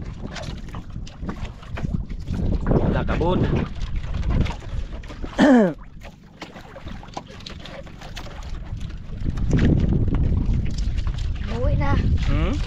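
Small fishing boat heading home across open water, steady wind and water rush with an engine drone under voices talking nearby, a sharp whooshing sweep midway and a stronger motor hum later.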